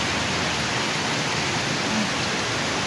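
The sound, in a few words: heavy rain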